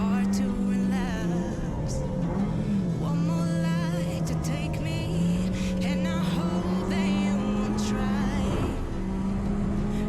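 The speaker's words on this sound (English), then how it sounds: "And again, all I did was wheel spin there." A race car's wheels spin on overheated tyres during a 750MC Roadsports race at Donington, the engine droning loudly and steadily with shifting pitch as it revs and strains, heard from inside the car.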